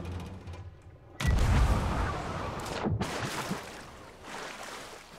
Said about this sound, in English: The cannon's in the perfect spot,